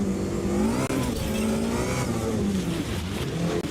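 A supercar engine in the racing game Automobilista 2 revs and shifts continuously on a short track circuit, loud and close, with tire noise and no talk.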